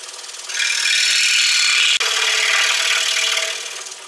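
A number 5 saw blade cuts steadily through hard, thick wood for a toy, a loud, continuous rasping close by that pauses for an instant midway and then carries on, with no talking.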